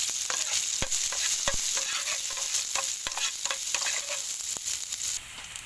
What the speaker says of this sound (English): So now start to fry our ingredient.